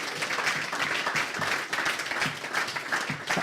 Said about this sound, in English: He's got to get a clap for that, surely